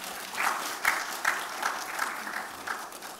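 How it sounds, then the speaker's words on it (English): Audience applause breaks out at a business talk on product innovation: moderate, fairly sparse clapping from a modest crowd with a few louder claps, heard at middle distance with no speech over it. "If you like it, please have a round of applause for him."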